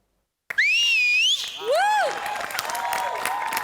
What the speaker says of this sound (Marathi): ही शिट्टी तुमच्यासाठी